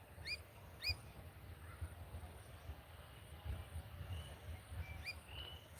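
Sharp, repeated chirps from a bird in a Kenyan forest, quiet and somewhat distant, over a steady hum of insects.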